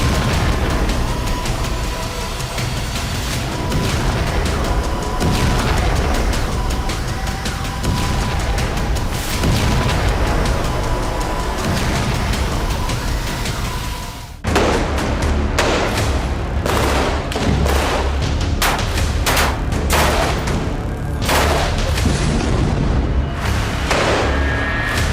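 Military strikes on Gaza with Spike missiles and Iron Sting guided mortars, continuous loud booms and rumbling blasts, with a dense crackle of sharp bursts after a brief break midway.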